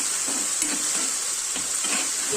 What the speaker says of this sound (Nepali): यो राखिसकेपछि पनि हामी केही समय यसरी चलाउँदै भुट्दै गर्छौं।